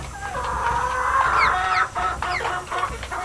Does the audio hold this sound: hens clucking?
yes